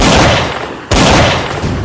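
Gunshot sound effects in a Brazilian radio drama about a bandit shooting a man on a bus: two loud, close blasts in quick succession, each followed by a short decaying rumble.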